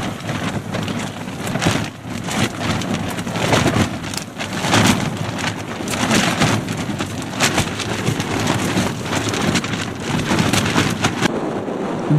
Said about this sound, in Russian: Дождь идет полосами.